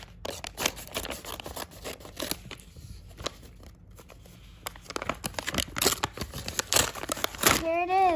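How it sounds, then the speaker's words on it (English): Scissors snip open a plastic fidget blind bag package, with crinkling wrapper, scattered sharp cuts and rustling handling up close, ending in a brief squeaky rubbery sound. "Now let's cut it with the scissors."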